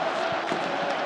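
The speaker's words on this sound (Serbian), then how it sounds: "i naravno oduševljenje navijača Crvene zvezde" Crvena Zvezda football supporters roar in a stadium during a 1995 derby against Partizan, a dense, steady wall of crowd cheering and shouting sustained at even loudness throughout.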